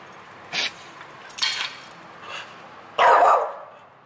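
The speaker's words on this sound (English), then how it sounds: "She's barking at you." A dog barks four times, short sharp barks spaced about a second apart with a louder final one, close by and alone.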